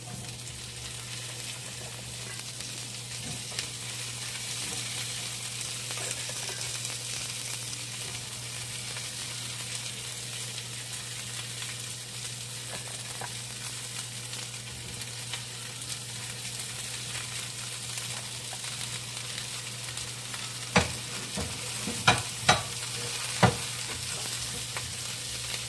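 Green beans and garlic fry in margarine with a steady, moderately quiet sizzle, and a few sharp clicks of stirring utensils toward the end.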